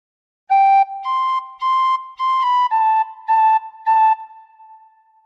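A tin whistle plays a short phrase from the Star Spangled Banner, seven clean, separately tongued notes that step slowly up and then down, close and clear with no voices.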